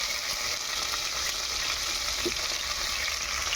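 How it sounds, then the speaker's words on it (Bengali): Onion, green chili and ginger-garlic paste fry in hot oil with whole spices, producing a steady, close sizzle that stays even throughout with no talking. "মশলাগুলো আমার হয়ে এসছে গরম তেলে। এবার অ্যাড করবো পেঁয়াজ ও লঙ্কা, পেঁয়াজ লঙ্কা আদা রসুন বাটা"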